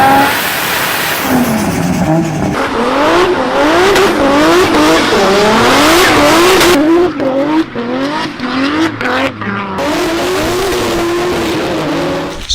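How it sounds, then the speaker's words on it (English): A Nissan RB30 engine revs hard again and again, with rising and falling pitch sweeping through repeated accelerations and gear changes, loud and close, with brief rough patches and crackles between pulls. "And the best part about an RB30, boys, the noise."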